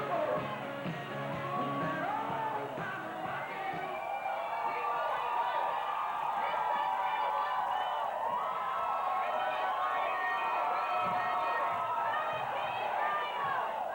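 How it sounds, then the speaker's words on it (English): A loud pro wrestling crowd in an arena roars and yells continuously, a dense wall of cheering voices with some shouts standing out, steady throughout. "We can't even hear the ring announcer over the crowd."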